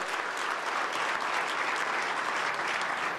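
A dinner audience at a Pongal celebration applauds a retired police chief in a dense, steady wave of clapping that fills the room without pause.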